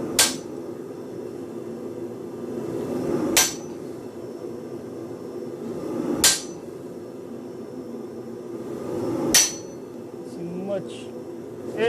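A hammer striking a chisel to cut teeth into a forged nutcracker, four sharp metallic blows spaced about three seconds apart, close and loud, with a low steady hum of shop background between strikes.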